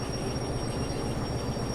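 A train in the video game Derail Valley rolls with its brakes on, rumbling steadily with a continuous low roar and a thin high whine running through it, loud and unbroken.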